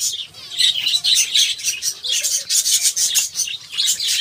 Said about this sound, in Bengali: দেখুন পাখিগুলো কী করছে, দেখুন জল খাবে বলে দেখুন সব চলে এসছে